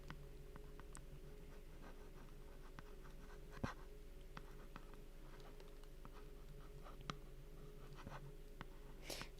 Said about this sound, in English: I'm just going to write a few more things on my little clipboard I've got here